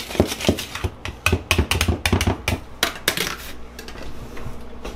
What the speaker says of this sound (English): I'm just gonna stir up the dry ingredients.